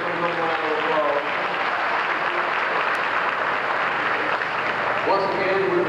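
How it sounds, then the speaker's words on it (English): Audience applause at an anniversary gospel concert fills the room as dense, steady clapping for several seconds, with a voice speaking briefly at the start and again near the end. "let's give them a round of applause."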